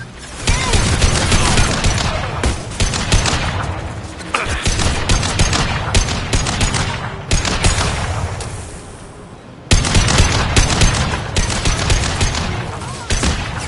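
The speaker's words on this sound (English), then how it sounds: "Firing a high-impact shot!" Dense, continuous gunfire from the video game Mass Effect 2, with rapid overlapping shots and heavy bursts forming a loud, sustained barrage that breaks off briefly near the end before resuming.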